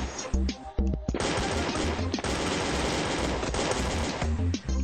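Military machine gun in a video game firing in long, loud sustained bursts, dense rapid shots filling most of the stretch with brief gaps near the start and end.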